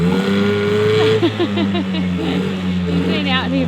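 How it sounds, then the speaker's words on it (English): A small outboard engine on a boat tender idles nearby with a steady droning hum, its pitch wavering slightly, while a person talks over it. "I've never heard that engine idle in my life."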